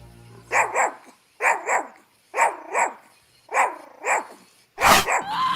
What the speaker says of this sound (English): Oh, there we are, my dog.